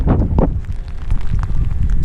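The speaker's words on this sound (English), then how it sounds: "It's windy." Steady, blustery wind roars into the microphone on a hike up Mt Carrigain, with low rumbling gusts throughout and no voices.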